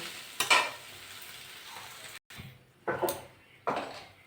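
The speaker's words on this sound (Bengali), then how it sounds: "ইঁচড়টা ভালো করে ভেজে নেব।" Young jackfruit frying in a pan, a soft continuous sizzle punctuated by three louder scraping stirs, close and with no talk.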